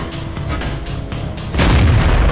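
The heavy main gun of a Soviet SU-85 tank destroyer fires in a tank battle game, a deep booming report swelling into a loud rumbling blast near the end, with engine drone underneath.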